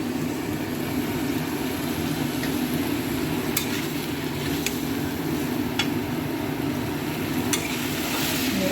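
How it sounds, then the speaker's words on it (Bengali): Potatoes and pointed gourd fry with spices in oil, giving a steady, dense sizzle close by, with a few faint clicks of a utensil scattered through and no talking. "ভালো করে ভেজে নিয়ে মশলা দিয়ে কষানো হচ্ছে"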